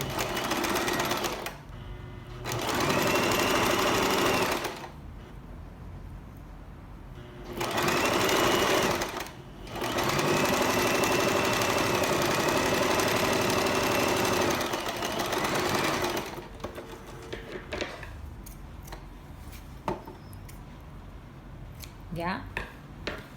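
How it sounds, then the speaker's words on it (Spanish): Sewing machine stitching blouse shoulder seams: close, loud bursts of rapid mechanical whirring alternating with pauses where handling clatter and a speaking voice come through. "Ahora coso hombro con hombro."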